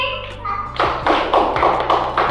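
Children in a preschool classroom clap in a quick series of about six sharp, close claps after a brief spoken moment at the start.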